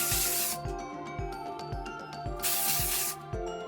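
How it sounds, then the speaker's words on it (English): Kenra Volume Spray 25 hairspray misted onto hair ends: two close, airy hissing bursts of spray, the first short and the second longer, over a steady background hum. "I'm also going to lightly mist the Volume Spray 25 through the ends as well"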